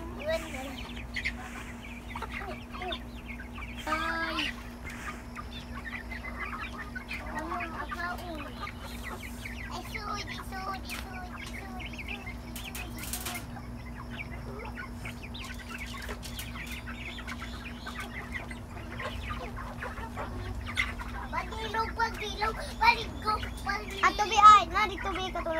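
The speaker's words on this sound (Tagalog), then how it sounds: "Okay naman tong ating mga manok, hindi naman sila mahirap alagaan." Backyard chickens cluck in scattered bursts through a steady farmyard hum, with a few louder calls near the end and people talking at times.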